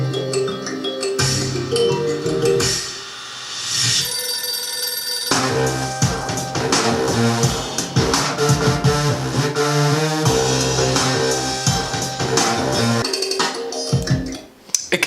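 Dense electronic world-fusion music, busy and loud throughout with layered bright melodic lines, percussion and bass, briefly dropping out near the end.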